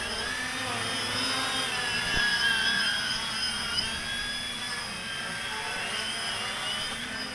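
Walkera QR X350 Pro quadcopter drone with a Mini PX4 flight controller spinning fast in yaw, a steady high-pitched motor whine with shifting pitch as it turns, moderately loud and continuous, no talk.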